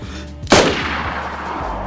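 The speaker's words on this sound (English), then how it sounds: "Oh, I'm getting shot at." A single sharp gunshot in the DayZ video game cracks loudly, then its echo fades over a low background hum.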